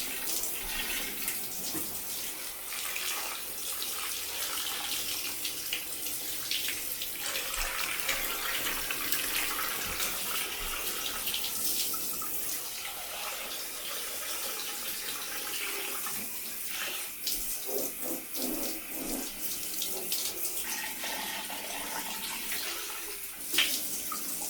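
A strong, continuous hiss of water spraying from a shower head on its strongest setting, steady and loud throughout with slight shifts in tone.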